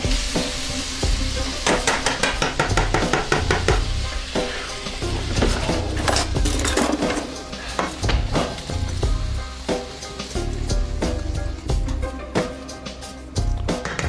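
Shallots sizzle and fry in a pot, a steady hiss with busy crackling and rapid clacks of a stirring utensil against the pot, loud and close throughout.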